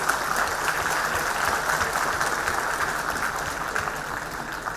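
An audience at a spiritual conference breaks into steady, dense applause from a large crowd, sustained clapping that holds evenly for several seconds.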